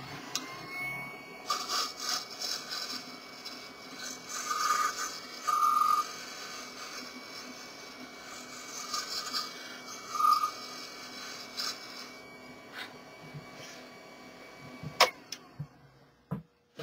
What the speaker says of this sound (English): Take the round nose scraper now and just